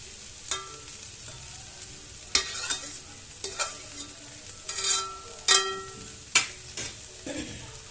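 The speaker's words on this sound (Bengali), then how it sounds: "এই যে আমার আলু ভাজা হয়ে গেছে কমপ্লিট" Potatoes fry in a pan and are stirred repeatedly, with sharp scraping strokes of the spatula at irregular intervals over a low, steady sizzle.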